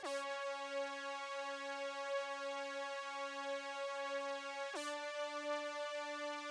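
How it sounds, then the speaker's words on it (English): A sustained, buzzy brass-like synth tone layered over bass holds one pitch, then briefly retriggers and continues, steady and fairly quiet. "And then we also layered a brassy like synth on top of the bass, which then sounds like this."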